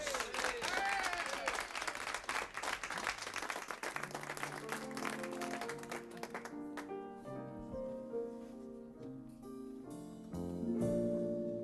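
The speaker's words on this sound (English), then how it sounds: "Will you give her a nice round of applause?" Studio audience applauding a female singer on a 1982 television variety show, a loud burst of clapping that fades over several seconds as a band's music rises and carries on alone.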